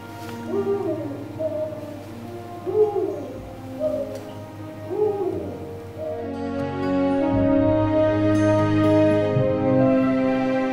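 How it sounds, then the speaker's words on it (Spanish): Deep, repeated hoots of a Eurasian eagle-owl at the Gallocanta lagoon in Spain, four or five evenly spaced calls, heard clearly, followed by a sustained tonal drone. "me encanta el sonido del búho real."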